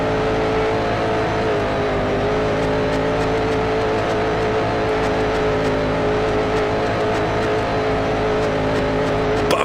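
Race car engine from Grand Prix Legends, on a high-banked oval: a loud, continuous engine drone at steady revs that buffets through the corners, heard alone with no talk.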